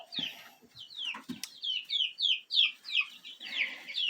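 High, rapid chirping peeps from chicks repeat in a quick rhythm, close by, with a few lower clucks and rustling early on.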